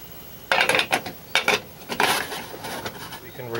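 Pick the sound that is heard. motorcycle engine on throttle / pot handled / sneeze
pot handled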